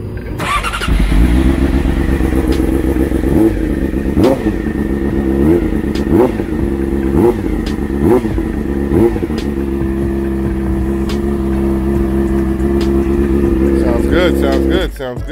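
Sport motorcycle fitted with an Akrapovic exhaust starts up and revs repeatedly, sharp throttle blips rising and falling over a rumbling idle close by, with people talking over the engine.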